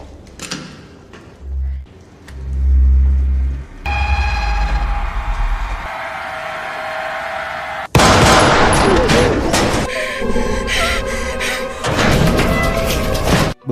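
Gunshots ring out during an action film scene, loud bursts and cracks layered over dramatic music and rumbling effects, growing denser and louder in the second half.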